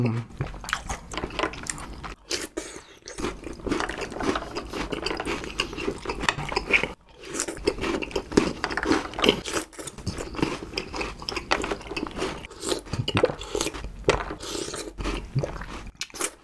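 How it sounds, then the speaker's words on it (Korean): Crunchy whole-wheat chocolate Digestive balls eaten in cold milk, with repeated close bites and crunches, wet chewing and squishy sounds spread through the stretch, and a few brief pauses. "이제 우유랑 같이 먹어볼게요."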